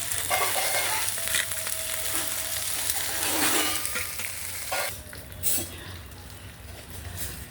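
Ginger, green chillies and curry leaves sputter and fry in hot oil in a pan, a steady close sizzle with bursts of crackle and stirring scrapes, fading slightly toward the end.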